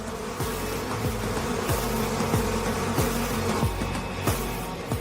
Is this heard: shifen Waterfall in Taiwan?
no